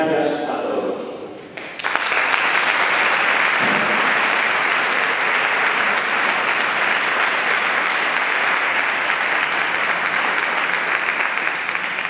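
An audience applauds after a choir's Christmas concert in Albelda de Iregua, a sustained, loud wash of clapping that starts abruptly after a brief moment of softer sound and continues evenly to the end.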